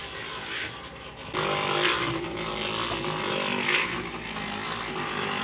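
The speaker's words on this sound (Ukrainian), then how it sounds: "Це у нас ця бетономішалка, ми її зробили." A homemade concrete mixer with an electric motor runs steadily, a continuous rumbling drone that jumps louder after a second and then holds, recorded close during floor screed work.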